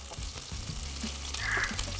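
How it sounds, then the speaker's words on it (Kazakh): Zucchini, eggplant, tomato and mushrooms fry separately in very hot oil, giving a close, continuous crackling sizzle at a fairly low level, with no talk over it. "қатты қызып тұрған майға кәді, баклажан, қызанақ және саңырауқұлақты бөлек-бөлек қуырып алып жатырмыз"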